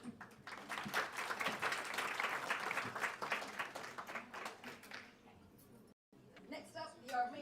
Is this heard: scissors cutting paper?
no